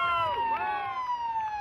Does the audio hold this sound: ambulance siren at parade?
yes